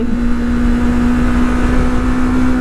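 Motorcycle engine held steady at about 7,000 RPM during a ride testing ester-based oil, a loud, sustained even drone with a constant pitch throughout and no speech.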